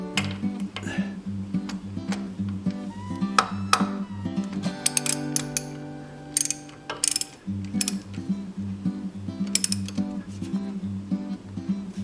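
Ratchet clicking while tightening a fitting on the hydraulic motor of a Di-Acro press brake, with repeated mechanical clicks and some metallic ringing over a steady machine hum.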